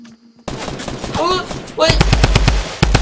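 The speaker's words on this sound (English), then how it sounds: "Actually, there were some shots coming at me." Rapid bursts of gunfire in a Fortnite match, first a short volley and then a loud string of evenly spaced shots close by. A player speaks briefly as the shooting begins.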